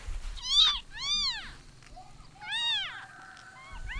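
Several high, plaintive kitten meows, three distinct cries spaced apart, close and fairly clear against a quiet background.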